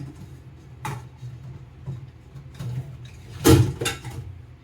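Pan clatters a few times in a home kitchen while pumpkin soup is being prepared: two or three brief metallic knocks and clinks, with a sharper clank near the end, over a quiet room.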